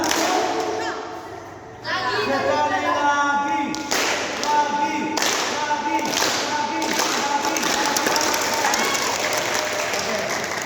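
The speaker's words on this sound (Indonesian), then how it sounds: "Sekarang untuk menutup coba tepuk semangat." Classroom students perform a rhythmic 'tepuk semangat' clapping chant, bursts of patterned claps and voices repeating in sections while a teacher's voice prompts them between rounds.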